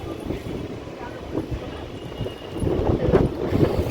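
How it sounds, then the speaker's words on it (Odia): Strong gusting wind at Digha sea beach, a loud continuous roar buffeting the microphone with rising surges toward the end, while a person talks over it. "ବହୁତ ଜୋରରେ ପବନ ଠେଲୁଛି ମୋତେ"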